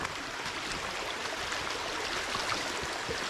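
Creek water flowing steadily outdoors during a morning walk, a continuous close rush and trickle with no talking.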